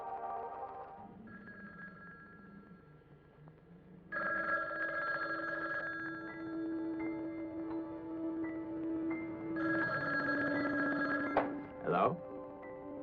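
An old telephone bell rings in long repeated bursts, loud and close, with a low voice speaking briefly beneath the first ring.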